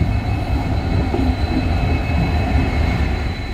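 A train arriving at a station platform rumbles steadily close by, a loud low roar with faint metallic hum throughout, no voices.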